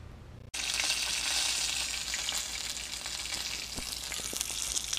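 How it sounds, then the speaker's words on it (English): After a brief quiet moment, a steady bright sizzle of fish (walleye or spotted bass) frying in hot oil in a pan fills the rest, with occasional small pops. "I got the rest of the fish frying"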